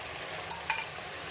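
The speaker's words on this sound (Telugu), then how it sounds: "పసుపు, ఉప్పు, కారము, ధనియాల పొడి 2 ఇవన్నీ కొంచెం బాగా మిక్స్ చేసుకుంటాం" Tomato stirred with turmeric, salt, chili and coriander powder in a pan alongside spinach, with a low steady sizzle and two brief metallic clinks of a spoon against the pan.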